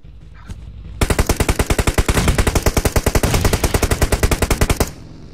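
A loud, sustained burst of rapid automatic rifle fire from a Scar L in PUBG Mobile runs nonstop for about four seconds as an even, fast stream of close shots, then cuts off abruptly.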